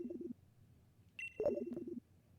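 A phone rings in Pokémon Sword, two short bursts of a chirpy electronic ringtone separated by a pause, fairly quiet and clear with no talking.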